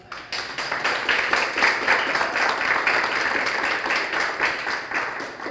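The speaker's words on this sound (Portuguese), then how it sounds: "Palmas para o Dr. Ulisses." Dense, steady clapping from an audience for Dr. Ulisses at a peace forum, many hands together at close range, holding level for several seconds with no talk over it.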